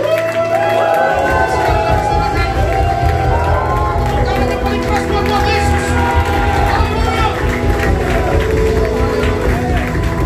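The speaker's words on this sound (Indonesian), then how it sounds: "Tepuk tangan yang meriah buat Tuhan." A church congregation applauds during a worship service, a loud, steady wash of clapping and cheering mixed with music, lasting throughout.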